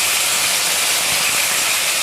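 Mustard and green chilli paste hits hot oil with a loud, dense, unbroken hiss, a close and steady roar of sizzling throughout.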